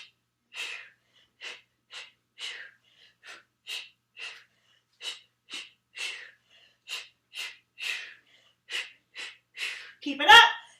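Heavy rhythmic breaths during a boot camp exercise, around twenty short, sharp exhalations at a steady pace, close and alone, followed by a brief loud vocal burst at the end.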